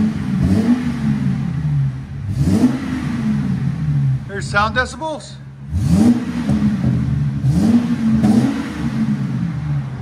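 Ford Excursion with a 5.4L V8 and Magnaflow 28-inch exhaust revving repeatedly, deep rising and falling engine bursts close by, with a short spoken remark midway.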